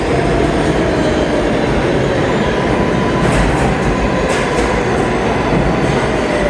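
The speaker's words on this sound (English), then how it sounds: "And we're going to jump on this train here." A New York City subway train arriving at Hunters Point Avenue station rumbles loudly and steadily, with a continuous roar and faint high metallic squeals near the end.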